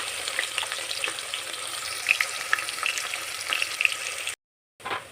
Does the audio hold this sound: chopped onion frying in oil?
yes